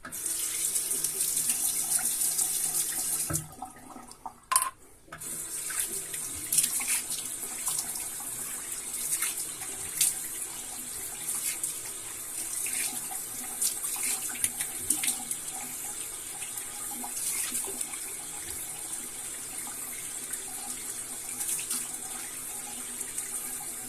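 A bathroom tap runs steadily while a face is washed after shaving, with a brief interruption of the flow, splashing as hands move through the water, and then the running resumes.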